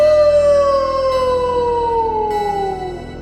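A werewolf howl sound effect, one long loud drawn-out howl that slowly slides downward in pitch and fades near the end, alone with no talk.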